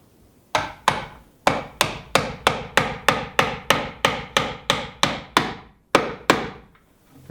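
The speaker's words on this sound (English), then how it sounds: "I want to hammer this into place" A hammer drives a round electrical box into place against a wall in a workshop, giving about seventeen sharp, evenly spaced wooden strikes, close and loud with no talking.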